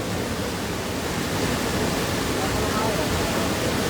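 An overflowing river in Ambuklao during continuous heavy rain roars nearby as a dense, unbroken wash of rushing water filling the whole clip.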